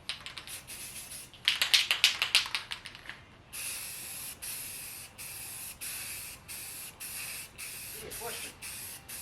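Primer is sprayed onto the side scoops of a 1994-1998 Mustang in a steady series of short, close hissing bursts. Quicker rattling taps come first, then the rhythmic spraying continues alone.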